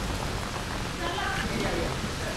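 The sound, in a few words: heavy stormy rain in Maharashtra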